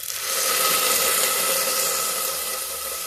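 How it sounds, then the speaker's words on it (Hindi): Hot water poured into a pan of frying whole moong and masoor dal, giving a steady loud hiss and bubbling sizzle that swells quickly and holds for a few seconds, with no voices. "अब इसमें हम डाल देते हैं पानी। जैसा कि आप जानते हैं गर्म पानी है।"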